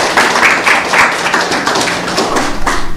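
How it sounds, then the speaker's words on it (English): Seminar audience clapping, a close, dense round of hand claps with distinct individual taps, steady and loud for a few seconds. "So please give him a big round of applause."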